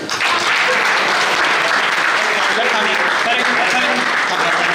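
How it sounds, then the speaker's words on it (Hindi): Applause at a retirement function for an MTNL employee, a dense steady wash of many hands clapping at close range, loud and continuous throughout with no break. "ताली बजाओ भाई।"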